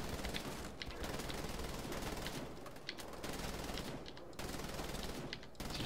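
Rapid automatic gunfire from Wolfenstein The Old Blood on PC: dense, loud bursts of shots with a few brief gaps, firing almost nonstop throughout.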